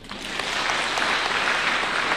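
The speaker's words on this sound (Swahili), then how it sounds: "wapigieni makofi" Applause from a crowd at a political rally in Embu, a dense, steady clapping that swells in the first moments and then holds strong and continuous.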